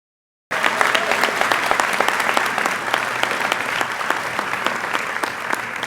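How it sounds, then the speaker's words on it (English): A school audience bursts into applause at a senior class night, steady clapping from many hands for several seconds after a brief silence. "Could we give the three a round of applause?"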